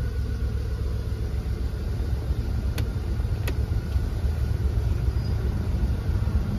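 A Volkswagen Polo with a CNG kit and manual transmission idles on CNG with the air conditioning running, giving a steady, even low rumble with no rise or fall, close up, with a couple of faint ticks.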